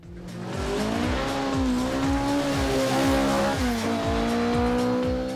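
A Nerus Silhouette race car roars past at speed during a race, its engine note rising and shifting through gear changes with tire noise, loud and close, continuous with no talk.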